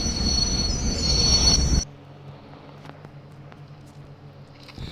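A loud video game train rumbles along with high metallic wheel squeal for about two seconds, then cuts to a quieter low hum with faint clicks.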